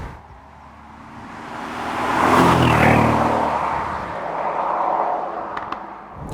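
A 2017 Mercedes SL63 AMG swells from a distance into a loud, close engine roar as it accelerates past, then fades while a second, softer surge rises behind it.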